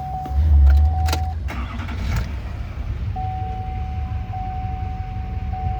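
A 2007 Chevrolet 2500 Duramax LBZ diesel pickup with a full MBRP exhaust cranks and starts, then settles into a steady, moderately loud idle with no talking.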